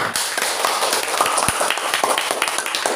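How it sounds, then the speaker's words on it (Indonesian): Clapping from a small group in a classroom, steady and busy, with dense overlapping claps and a few sharper taps standing out. "Tepuk tangan untuk Okan."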